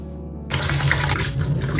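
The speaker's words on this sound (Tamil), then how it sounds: "இப்போ கிழங்கு வந்து நம்ம நல்லாவே வாஷ் பண்ணி எடுத்துடலாம்" Tap water gushing into a sink or bowl as soaked potatoes for french fries are washed, starting abruptly after a quiet moment and running steadily, close and fairly loud with no talk.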